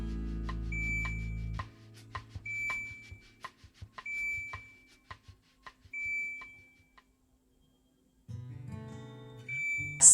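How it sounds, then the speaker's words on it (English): An AIRMSEN portable countertop dishwasher gives short electronic beeps after it fills with water. Several brief tones repeat at spaced intervals over quiet background, with water-fill rumble at the start and end. "You'll hear a beep once it's full."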